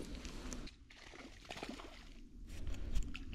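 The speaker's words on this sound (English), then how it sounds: "You hear him splishing and splashing?" A crappie caught while fishing splashes and sloshes in water, faint irregular splashing and dribbling nearby with small bursts, quiet overall.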